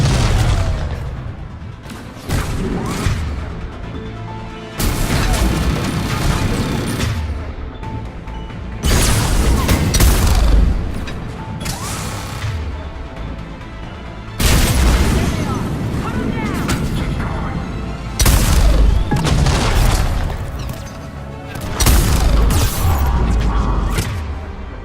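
Heavy gunfire in Mass Effect 3 at Grissom Academy comes in loud booming volleys separated by short lulls, repeating several times over the combat soundscape with a voice speaking between shots.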